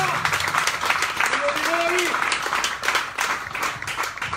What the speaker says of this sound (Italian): Un bel applauso per Giampaolo Almanzi.